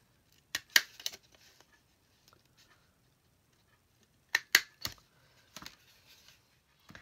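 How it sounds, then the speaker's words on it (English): A tiny attacher-style stapler drives a couple of staples into the bottom edge of paper: two separate bursts of sharp, quiet clicks a few seconds apart, close by in an otherwise hushed room. "take my tiny attacher here and put a couple of staples in the very bottom"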